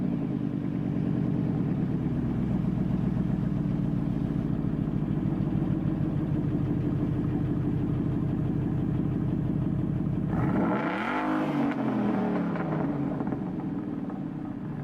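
A Ford Mustang Boss 302 V8 running through its side exit exhaust with the block-off plates removed, idling with a loud, steady, lumpy burble before one sharp rev that swells and falls back, heard close.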